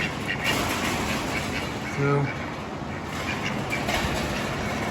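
Pet duck in a workshop giving one short quack partway through, faint against steady shop background noise.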